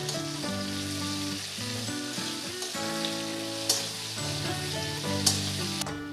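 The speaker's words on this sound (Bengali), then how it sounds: "দিয়ে পেঁয়াজের সাথে আলুটা ভালো করে ভেজে নেব" Potatoes and chopped onion for a radish and prawn ghonto hiss in a hot pan with a constant loud sizzle, while tonal background music runs underneath and a few metallic clinks of stirring cut through.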